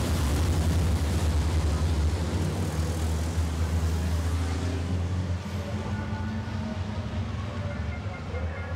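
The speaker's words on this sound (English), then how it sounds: "All the trucks go through the first corner without problems" Racing trucks of the FIA European Truck Racing Championship at Most rolling through the first corner under yellow flags at the start, a loud, steady low engine drone from several trucks together, with light rain falling.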